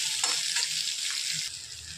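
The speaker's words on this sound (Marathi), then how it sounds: "हे बघा अशा पद्धतीने आपल्याला भाजून घ्यायचं आहे." Onions roast in a pan with a bright, steady sizzle that eases slightly partway through, with a few soft clinks underneath.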